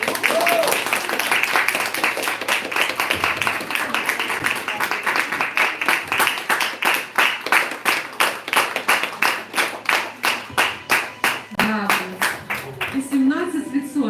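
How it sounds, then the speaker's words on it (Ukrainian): An audience at a business awards event claps in a fast rhythmic beat during a diploma presentation, loud and close. The even pulses hold steady, with brief speech and other sounds near the end. "оплески, друзі."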